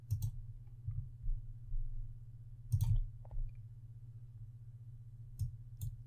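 A computer mouse clicks sharply a handful of times, singly and in quick pairs, close and crisp over a steady low electrical hum.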